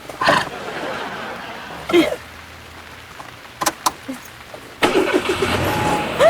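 A car engine cranks and turns over in a few short bursts before catching and running, fairly close and loud, with a steady background hiss.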